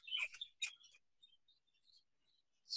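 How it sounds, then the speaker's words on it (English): Baby budgerigars chirp in quick, high bursts, a cluster of bright calls at the start, then softer scattered tweets and another chirp at the end. "These are all baby birds"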